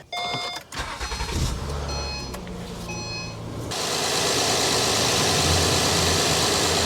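An Acura TL engine cranks and catches, and after a few seconds of mechanical clatter and chimes the car settles into a steady, even idle that runs on loud and close.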